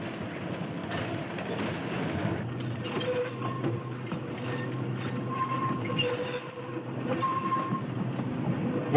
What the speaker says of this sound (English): Once again, the train crosses the 14th Avenue dip.